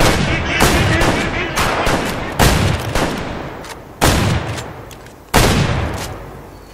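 Loud shotgun blasts ring out while hunting ducks in the game Way of the Hunter, about half a dozen booming shots spaced a second or so apart, each with a long fading echo.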